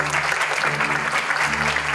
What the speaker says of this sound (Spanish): Un aplauso y fuerte